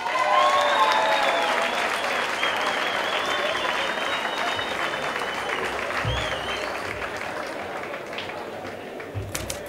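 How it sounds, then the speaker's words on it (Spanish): Sustained audience applause and crowd noise welcome Leo García onto the stage at Banda Soporte's fifth-anniversary show, steady clapping filling the whole stretch with a few brief vocal tones riding on top and fading slightly toward the end. "Fuerte el aplauso para recibir en el escenario de Banda Soporte en este quinto aniversario a Leo García"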